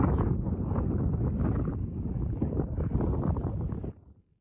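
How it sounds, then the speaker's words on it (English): Steady wind buffets an outdoor microphone beside a creek during a fishing trip, a loud continuous low rumble that drops away abruptly near the end. "There's wind."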